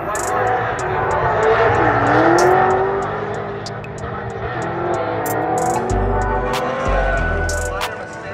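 A drift car at a Formula Drift event in Utah screams past under sustained high revs and tire noise, with excited commentary running over it throughout.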